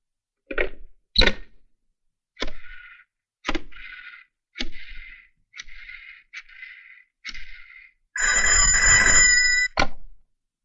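A telephone rings during a call, about eight short rings in a rhythmic series, then one long loud buzzing burst near the end, clear and close with no voices.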